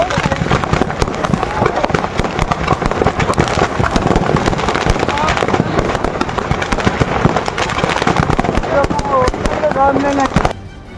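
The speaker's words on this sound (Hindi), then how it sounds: "सड़क पर एक ट्रक खड़ा है और उसमें आतिशबाजी हो रही है।" Fireworks going off from a burning truck on a road in Unnao at night, dense rapid crackling bangs firing nonstop and loud, cutting out abruptly near the end.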